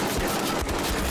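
Dense burst of rapid gunfire at zombies in Wolfenstein: The Old Blood, loud and continuous, with sharp overlapping shots filling the short moment.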